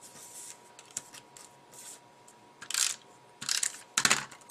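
Tape being pulled and pressed onto a handmade Easter card, quiet crinkles and short tearing scrapes that grow louder in a few sharp bursts toward the end, heard close up with no talking.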